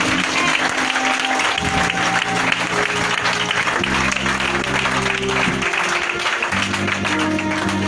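A church congregation claps loudly and continuously in acclaim during a worship service, a sustained dense roar of applause with steady tonal music underneath.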